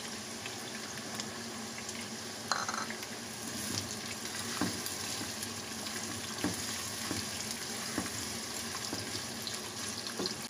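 Onion and garlic frying for lentil soup make a steady, close sizzle with occasional stirring clicks and scrapes, continuous throughout with no voices.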